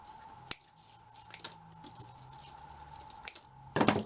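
Snips of a small cutter or scissors cutting through fine metal chain for handmade beaded tassels: a few sharp isolated clicks spaced apart, then a brief rustle of handling at the end, close and quiet with no talk.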